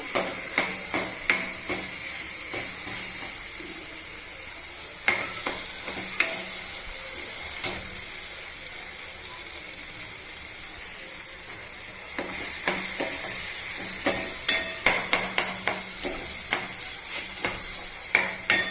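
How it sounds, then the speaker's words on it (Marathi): Frying in a pan with fresh coriander just added, a constant bright sizzle with repeated sharp spatula scrapes and taps against the metal, sparse at first then clustering near the end, no talk. "चांगलं फ्राय करून घेते"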